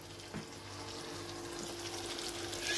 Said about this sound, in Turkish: Kuru fasulyeyi ilave ediyoruz.